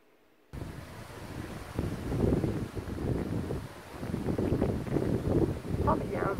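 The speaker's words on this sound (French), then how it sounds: "Oh, mais il y a un vent à décorner les bœufs." Strong wind roars and buffets against the microphone in steady gusts, a loud rushing noise with no voices.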